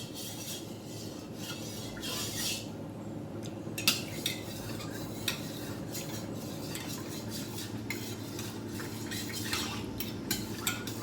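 A spoon stirs homemade curd in a bowl, making soft continuous scraping with occasional small clinks, close and quiet, with no voices.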